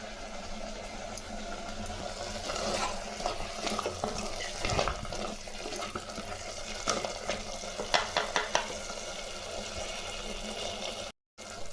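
Steady bubbling and sizzling of goat trotter curry simmering in a pan over lowered heat, with occasional stirring scrapes, close by and without talk.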